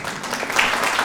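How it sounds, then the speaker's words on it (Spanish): A church congregation breaks into applause for a small child, a dense wash of many hands clapping at moderate distance, steady throughout the brief moment with no clear speech. "denle un aplauso ahí al pequeño Rafa."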